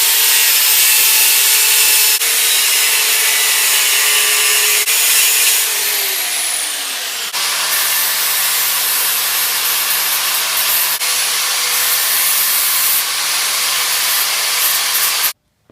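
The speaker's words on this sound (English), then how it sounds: "we've got our detents ground off to the specs that they gave" A grinder works metal detents on an NP205 transfer case shift rail, giving a loud, continuous abrasive whine and rasp close up, with pitch shifts as the tool loads and unloads before stopping abruptly.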